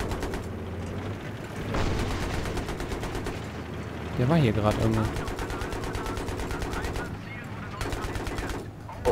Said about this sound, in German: Kriegen gerade Schüsse.